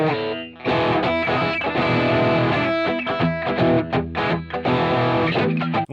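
Loud electric guitar played through the Guitar Rig 5 Fat Blues Lead amp preset, distorted and dry with no reverb or delay, strummed chords ringing continuously with choppy accents toward the end.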